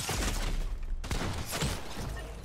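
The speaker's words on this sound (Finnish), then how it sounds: "Mitä mua ammutaan?" Gunfire in Fortnite, played on keyboard and mouse: a rapid burst of sharp shots, a brief break near the middle, then more cracking shots, fairly close and alone.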